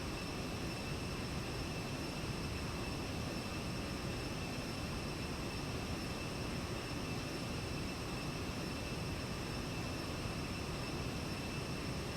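An Aerobask ViperJet LXR climbing after takeoff in the X-Plane 10 flight simulator, a steady loud broadband engine roar with a constant high whine, unbroken throughout with no talk.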